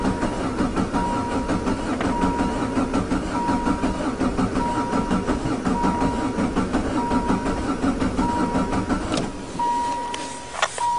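Diesel engine of a caravan cranking steadily with a rhythmic churning pulse for several seconds, then a sharper change near the end as it tries to catch, heard close up with faint talk around it.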